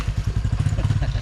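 A motorcycle passes by on a narrow street near a drainage canal, its engine putting out a steady, loud, close low rumble with rhythmic pulsing throughout.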